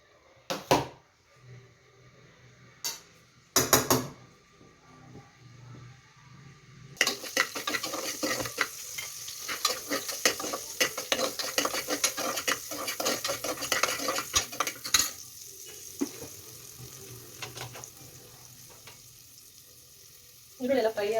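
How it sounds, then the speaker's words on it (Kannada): Chopped onions go into hot oil in a pressure cooker and fry with a steady sizzle, mixed with scraping stirring and clinking utensil sounds against the metal pot, close up with intermittent louder bursts. "ಸ್ವಲ್ಪ ಅದೇ ಕುಕ್ಕರಿಗೆ ಎಣ್ಣೆ ಹಾಕ್ಕೊಂಡು ಈರುಳ್ಳಿ ಕಟ್ ಮಾಡಿ ಇಟ್ಕೊಂಡಿದ್ನಲ್ವ ಅದನ್ನು ಹಾಕ್ತೀನಿ."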